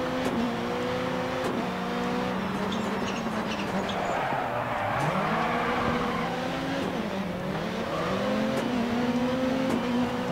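Ford Focus rally car in DiRT 4 drives hard on dirt during a World RX event, its engine revving and shifting continuously with rising and falling pitch, loud and close throughout.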